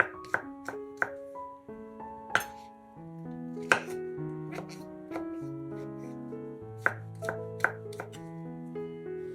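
Irregular knife taps dicing mushrooms on a cutting board, some sharp and others soft, scattered over a melodic music bed with no voices.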